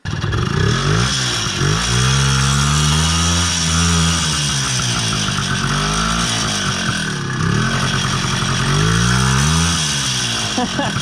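Izh Planeta 5 motorcycle engine revving loudly and steadily, pitch rising and falling in repeated throttle swells while it sits in place, with someone talking over it.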